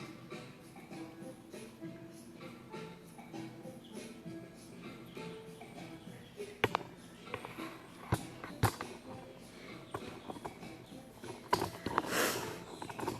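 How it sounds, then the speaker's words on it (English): Someone sniffs close to the microphone, short sharp intakes of breath scattered irregularly over a quiet kitchen background while preparing tomato appetizers. "I'm constantly sniffing"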